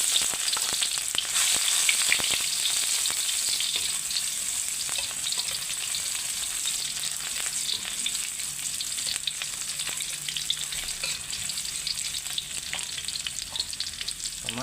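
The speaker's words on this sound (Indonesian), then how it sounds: "Sekarang kita mau numis sawi. Masukkan bawang merah, bawang putih," Shallots and garlic sauté in hot oil to stir-fry mustard greens, giving a dense, continuous crackling sizzle at close range. It stays loud and even throughout with scattered spits and pops, and no voices.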